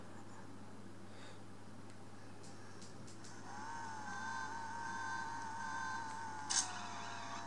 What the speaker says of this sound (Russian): У нас прям какой-то drag racing.